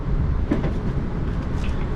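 A five-coach South Western Railway train runs between Woking and London, heard from inside a carriage as a loud, steady rumble and hiss of wheels on track with faint rhythmic rattling.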